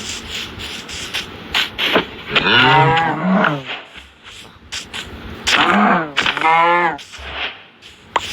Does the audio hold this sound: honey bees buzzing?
no